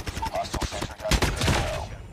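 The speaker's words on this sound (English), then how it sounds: "he has a sentry gun" A sentry gun in Call of Duty fires rapid bursts of gunshots, a dense, loud, crackling rattle with a player's voice talking over it.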